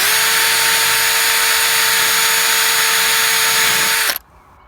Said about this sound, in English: When the drill goes through, you have to be really careful it doesn't go too far.